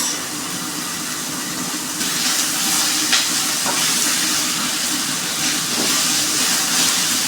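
Fried rice with vegetables frying and being spiced in a pan, giving a steady, close hiss and sizzle that swells slightly partway through, with no talking.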